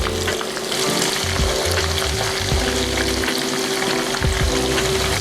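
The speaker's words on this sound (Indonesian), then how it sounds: "Sekarang kita mau menggoreng ayamnya. Tempenya juga kita goreng aja." Chicken pieces and tempeh fry in hot oil with a dense, continuous sizzle and crackle, punctuated by occasional clinks and scrapes of stirring and turning in the pan.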